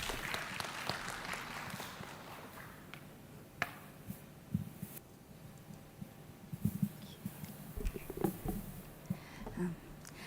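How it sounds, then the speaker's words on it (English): Audience applause at an international education conference session, a dense wash of clapping near the start that thins into scattered claps and room noise, heard at moderate distance. "Please give her a round of applause,"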